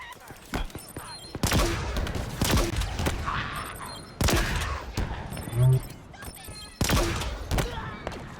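Shots from a gun in Halo Infinite go off in loud, sharp bursts, some single cracks and some rapid volleys, separated by short pauses, with game effects and a voice in the background.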